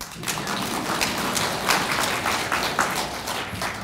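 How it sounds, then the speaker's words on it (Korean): A church congregation claps together in a steady, moderately faint patter of many hands that holds for a few seconds. "박수 쳐야 돼."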